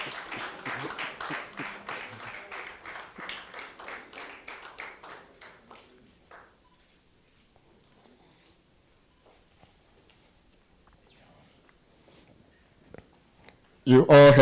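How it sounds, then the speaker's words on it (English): Loud applause from the audience at a graduation congregation ceremony for graduate Isaac Ampedu, dense clapping that fades out over about six seconds, followed by near silence and then a sudden loud burst at the very end. "You all heard the loud applause when Isaac was mentioned"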